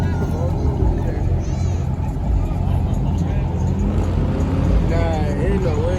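At a car meet in Atlanta, a car spins out in the grass with a continuous loud engine roar that varies in pitch. Excited voices talk over it throughout.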